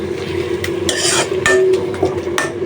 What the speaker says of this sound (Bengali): একটু নাড়াচাড়া করে উঠে ফেলবো তো পেঁয়াজটা যাতে কাঁচা না থাকে